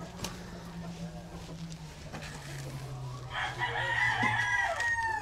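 A gamecock at a breeding farm crows loudly and close by in the second half, after a stretch of clucking and low farm ambience with a steady hum underneath.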